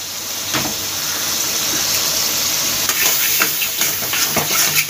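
Plantain flower and prawns cooked with red chilli powder and salt, stirred and fried in a pan: a steady sizzle and hiss with repeated scraping stirs throughout, close and fairly loud, no voices.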